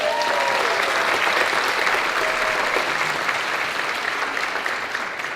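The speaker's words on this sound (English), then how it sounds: "So please give a round of applause to Board President Pamela Haynes." An audience at the Los Rios Community College District Fall 2018 convocation claps for the board president: dense, loud, continuous applause that tapers a little toward the end.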